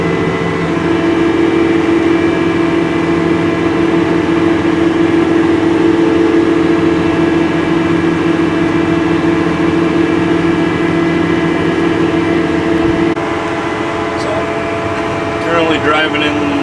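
A farm vehicle drives through a once-flooded bottom field while planting corn, its engine a loud, steady, unbroken drone that holds for the whole stretch with a brief shift near the end; a voice talks over it.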